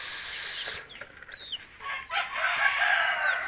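Black Australorp chickens on a farm, a close flock clucking and murmuring with a few higher squawks and rising calls over a steady outdoor background.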